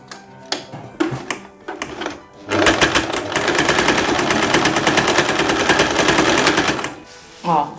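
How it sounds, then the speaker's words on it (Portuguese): A sewing machine stitches a dress seam, opening with a few short bursts of needle clatter, then running in a rapid steady chatter for several seconds before stopping; brief speech occurs at the start. "você vem aqui e passa uma costurinha"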